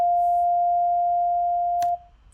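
A steady 700 Hz sine test tone holds pure and unbroken for about two seconds before cutting off, followed by a brief click and faint room noise.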